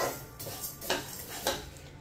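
Ingredients for homemade cerelac are dry roasted in a pan over medium heat, a few soft scraping and clinking stirs against the pan over a faint background hiss.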